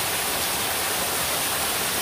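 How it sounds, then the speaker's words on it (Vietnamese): A small forest stream spills over rocks as a mini waterfall, giving a constant close rush of splashing water. "Con suối tạo thành dòng thác."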